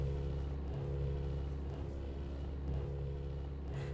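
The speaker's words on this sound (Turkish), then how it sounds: "Şöyle arabayı evin önüne park edeyim." A car engine idling and rumbling steadily while being parked in front of a house in Minecraft, a constant low hum with no talk.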